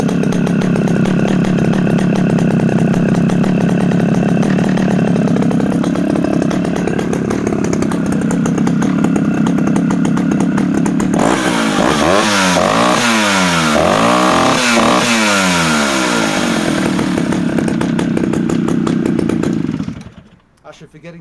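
A restored chainsaw fitted with a non-return valve runs loudly and steadily close by, its two-stroke engine revving up and down in waves before cutting off abruptly at the end; no speech is heard.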